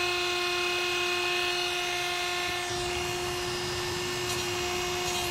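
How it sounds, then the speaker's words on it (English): A Dremel rotary tool cuts a rounded edge on a Honda Civic EF bumper, a loud, steady high-pitched whine running close up throughout with no speech. "Cutting a round edge with the Dremel kind of sucks,"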